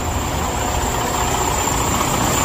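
A truck engine runs at a steady idle with the hood open during a pre-trip check in the USA, a constant close drone with no talking.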